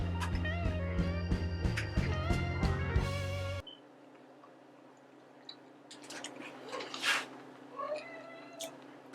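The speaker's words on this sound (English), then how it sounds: "And that's my cat." A pet cat meows in a home kitchen where flourless blueberry pancakes are being made, after a burst of music cuts off; a single fairly clear meow rises near the end over quiet room noise.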